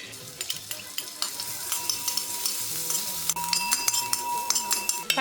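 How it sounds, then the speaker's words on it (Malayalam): Finely chopped green chilies fry in hot coconut oil, a steady close sizzle broken by frequent clinks and scrapes of a utensil stirring against the pan. "എണ്ണ ചൂടാകുമ്പോഴേക്ക് ഈ ചെറുതായിട്ട് അരിഞ്ഞു വെച്ചിരിക്കുന്ന പച്ചമുളക് ഇതിലിട്ടൊന്ന് വഴറ്റി കൊടുക്കാം"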